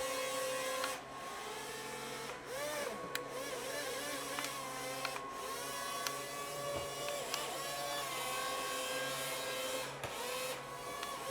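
A Dawdix amphibious RC toy hovercraft runs with a steady, loud whirring fan drone throughout, its pitch wavering and swelling as it glides and turns, with a few brief dips in level.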